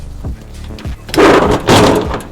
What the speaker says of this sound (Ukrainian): Двері гарно відкриваються.